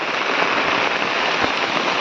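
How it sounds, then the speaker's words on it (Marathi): Heavy rain pours down in a dense, even roar of drops, close and loud, with no voices. "आता पाऊस पण इलो"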